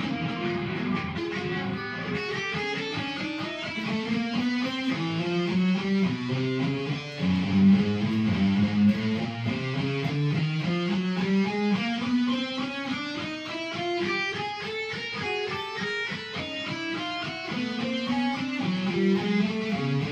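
A guitar exercise played slowly and evenly, single notes stepping steadily up and down across the neck in a continuous clear run, close and alone with no talking.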